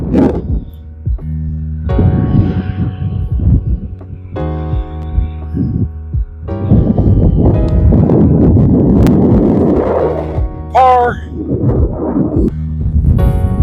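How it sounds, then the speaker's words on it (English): Strong wind buffeting the microphone on a Wyoming golf course, loud low rumbling gusts that rise and fall in bursts with brief lulls. "that is a lot of wind"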